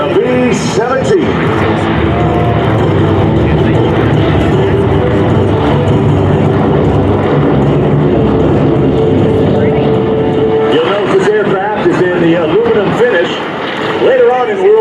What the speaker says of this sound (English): B-17 Flying Fortress from the Yankee Air Force